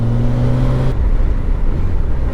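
A motorcycle engine droning steadily, then the tone cuts out abruptly as the bike releases the rear brake and pulls away, leaving a rougher low rumble and wind, close and loud with no talk.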